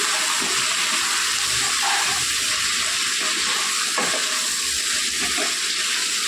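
Broad beans with turmeric and salt sizzle and crackle in a pan as they are stirred, a loud, continuous frying hiss with faint scraping stirs, no voices.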